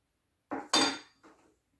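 A spoon scraping and clinking against a bowl while mixing cloud dough, three short knocks close by, the middle one loudest, with silence before and after.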